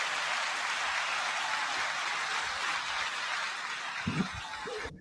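Sustained applause from a live talk-show audience, a steady dense wash of clapping that holds evenly throughout before a few louder low thumps and an abrupt stop at the end.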